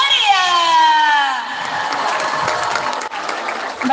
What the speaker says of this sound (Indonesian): Boleh dong sekali lagi beri tepuk tangan yang meriah.